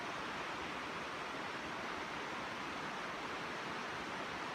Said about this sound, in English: the water's really rushing down there.